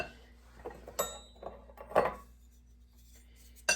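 A whisk stirring muffin batter in a bowl, giving quiet scraping strokes and several light clinks against the bowl at irregular intervals, close and faint with no talking.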